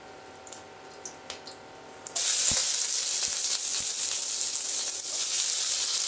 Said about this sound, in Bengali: গোটা গরম মশলা ফোড়নে দিলাম।